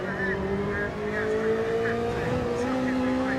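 Ferrari race car in Gran Turismo 7 at Autopolis, engine note holding a steady high drone with shifting pitch, continuous and fairly loud throughout with faint higher whines layered above.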